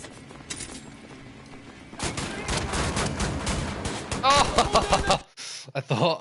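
Heavy gun firing in Wolfenstein, a run of loud rapid booming shots with strong low thumps that cut off abruptly, preceded by a quieter stretch and mixed with a voice talking over the action.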